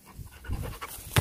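A dog pants close by outdoors on a hilltop in the Peak District, quick breathy huffs with soft rustling and a louder bump at the end.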